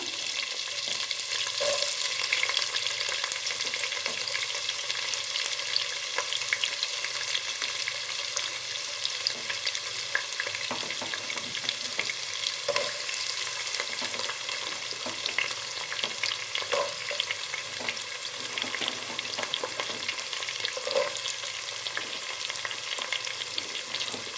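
Onion and mixed vegetables frying in oil for veg biryani, a continuous close sizzle with occasional stirring scrapes, steady throughout with no voices.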